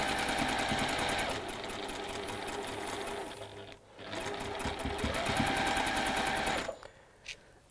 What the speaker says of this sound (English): hold it together so it won't move while I sew across 2 seams